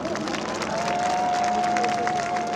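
Crowd applause with cheering for a workers' dance troupe at a labor union rally, dense clapping sustained and loud throughout, with a long whistle-like tone running over the middle.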